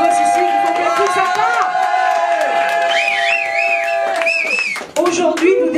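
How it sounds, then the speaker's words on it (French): A concert audience at a Samovar support show in Bordeaux claps and cheers for the volunteers, a loud, dense crowd noise with music-like tones and shouting voices mixed in throughout. "on peut les applaudir tous les bénévoles qui voient ici"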